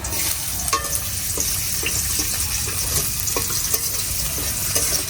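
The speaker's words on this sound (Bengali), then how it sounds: "পেঁয়াজটা ভাজা হোক" Chopped onions frying in oil in a pan with turmeric, a loud continuous close sizzle and crackle with light scattered stirring taps throughout.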